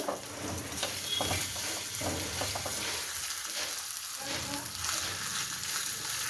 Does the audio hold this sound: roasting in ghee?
yes